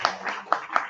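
Audience clapping at a community informational meeting about dust, a few hands striking in an uneven rhythm, close and fairly loud, brief and sparse rather than a full ovation.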